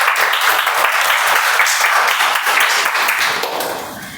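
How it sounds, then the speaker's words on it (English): Members at a Toastmasters club meeting give a full round of applause for the Table Topics speakers, a thick, continuous wash of clapping that holds steady, then fades slightly near the end. "let's give huge round of applause to all the Table Topics speakers"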